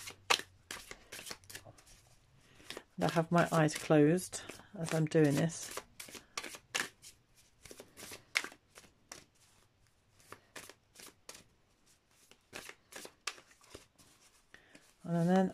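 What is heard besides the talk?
shuffling oracle cards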